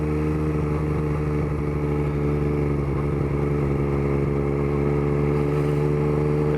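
A 2021 Yamaha MT-09 motorcycle being ridden, its engine a steady, loud, close drone with a constant pitch and no break throughout.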